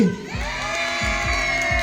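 Supporters of Sitthichai Academy roar and scream at an under-11 seven-a-side football final, a loud, sustained crowd cheer punctuated by steady drum-like thumps.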